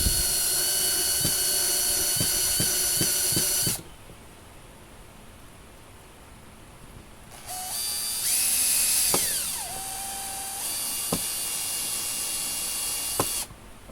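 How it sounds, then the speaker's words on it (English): A power drill bores pilot screw holes through a wooden pallet leg and brace, whining steadily for several seconds in bursts, then after a pause running again loud and close with a pitch shift as the bit breaks through. "I'm just pre-drilling them until I can feel them emerging from the other side"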